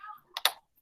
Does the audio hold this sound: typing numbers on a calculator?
yes